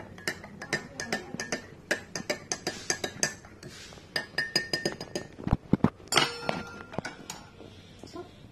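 Lemon water stirred in a glass of warm water, a spoon clinking repeatedly and rhythmically against the glass, close and clear, with a few heavier knocks near the end.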